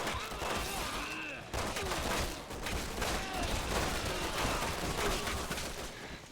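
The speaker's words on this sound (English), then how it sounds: "I'm literally shooting him" Dense gunfire in Resident Evil 6 while shooting at an enemy, a sustained loud barrage of rapid shots and bursts running for several seconds with faint voice traces underneath.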